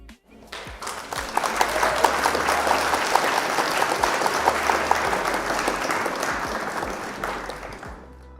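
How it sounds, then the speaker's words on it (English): A crowd at a live Flesh and Blood trading card game match bursts into sustained, loud applause for an opponent, clapping steadily for several seconds before it tapers off. "round of applause for opponent"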